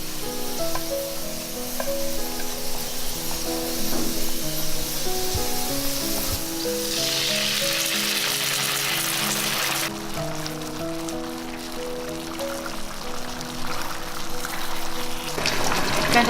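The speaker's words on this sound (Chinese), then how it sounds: "煎到两面金黄，就把料汁淋进来。" Soy-and-starch sauce poured into a flat pan over chicken patties frying golden in a little oil, a loud steady sizzle that surges and hisses brighter as the liquid hits, with music running throughout.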